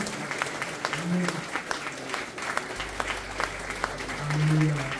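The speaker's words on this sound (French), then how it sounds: "Oui, tu peux applaudir le Seigneur." Steady applause from a church congregation fills the space, with a few voices and a low rumble rising near the end.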